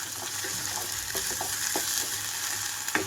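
Onions and ginger-garlic paste frying over a high flame for a mushroom fry, giving a steady dense sizzle with a few scattered stirring clicks and no talking.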